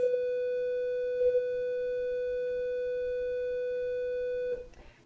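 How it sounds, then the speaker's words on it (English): A long electronic bell tone rings on in a room, a single steady pure tone that holds for several seconds and then cuts off. "I'm sorry for that bell. I hate that it keeps ringing on."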